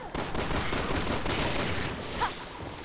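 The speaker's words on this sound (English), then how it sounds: "I'll just use the pistol." Pistol gunfire in Resident Evil 6 co-op play, a dense stream of sharp shots and impacts mixed with game noise at fairly constant loudness, with no voices.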